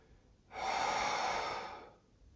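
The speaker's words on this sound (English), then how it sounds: "So 1 more Uddiyana, that big exhale." A big forceful exhale during Uddiyana yoga breathing, one long breathy rush of air lasting about a second and a half, close and clear with no talking.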